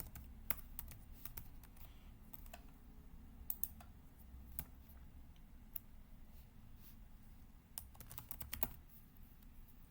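A computer keyboard is typed on in sparse, quiet clicks and short bursts of keystrokes against a low background hum, with no voices.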